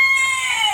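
A chicken clucks and calls at close range in one short burst, with no talk.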